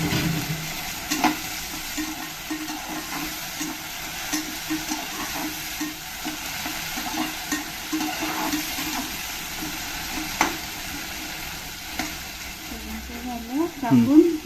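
Tomato goes into a pan of onions frying for daliya, giving a steady low sizzle with repeated stirring scrapes and a louder clatter near the end; a voice speaks over the cooking.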